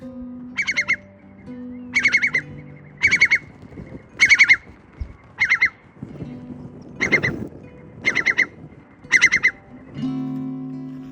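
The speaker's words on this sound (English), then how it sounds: "There's just loads of skylarks and curlews flying about, and they must be nesting in this long grass." Skylarks and curlews call over long moorland grass in the Peak District: eight bursts of bright chirping, roughly one a second, against a low, steady background.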